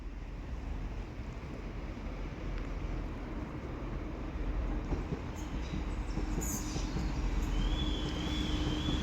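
A Chiltern Railways Class 165 diesel passenger train arrives at High Wycombe station, rumbling steadily with low, continuous mechanical noise that swells slightly as it draws closer, with a faint high squeal near the end.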